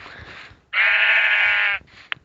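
A sheep in the Minecraft video game gives one loud, clear harmonic bleat lasting about a second, framed by quieter game noise and a short sharp click at the end.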